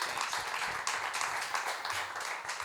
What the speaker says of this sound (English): Please make applause for Harvey Cohen.